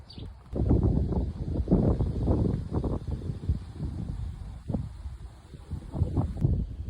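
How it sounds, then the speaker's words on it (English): Wind gusting through a backyard garden, buffeting the microphone with loud, low rumbling bursts that swell and fade over several seconds, with no talking. "I'm trying to face away from the wind so it's not so distracting and not so hard to hear me."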